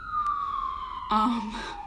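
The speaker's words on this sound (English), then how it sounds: "That siren has been going for a really long time." A wailing emergency vehicle siren on a New York City street, a loud, close tone sliding slowly downward before a second, harsher siren cuts in over it, briefly layered before the sound continues.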